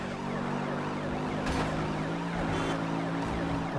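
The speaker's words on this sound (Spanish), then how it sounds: "Apaga tu sirena, hijo." A police car siren in the racing game Need for Speed Rivals wails steadily and loud with a continuous rising and falling tone, set against an engine rumble with no voices over it.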